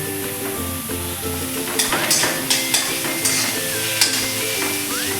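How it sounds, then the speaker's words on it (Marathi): Tomatoes added to sautéed onions fry with a loud sizzle for a leftover chapati chivda, while a spatula scrapes and clacks against the pan in several sharp strokes, with no talking. "आपला कांदा का छान असा परतून झालेला आहे आपण यामध्ये हे टॅमॅटो घालून घेऊया"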